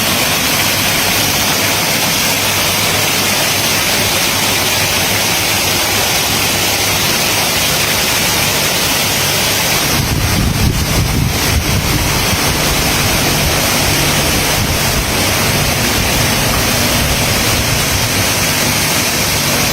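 An artificial waterfall in a temple garden in Sriracha pours a steady, loud broadband rush of falling water that runs unbroken throughout, thickening with a deeper low roar partway through.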